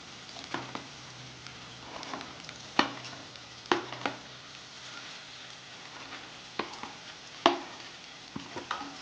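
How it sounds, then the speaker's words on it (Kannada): Cut okra (ladies finger) frying in oil, with fenugreek, for a dry curry, sizzling steadily while a spoon scrapes and stirs the pan in irregular close knocks and clatters, with no talking. "ಸೊ ಇವಾಗ ಇದನ್ನು ಚೆನ್ನಾಗಿ ಹುರ್ಕೊಳ್ಳೋಣ ಸೊ ಬೆಂಡೆಕಾಯಿ ಏನಿರುತ್ತೆ ಅದನ್ನು ಚೆನ್ನಾಗಿ ಹೋಗಬೇಕು ಎಣ್ಣೆಯಲ್ಲಿ ಚೆನ್ನಾಗಿ ಬೇಯಿಸಬೇಕು"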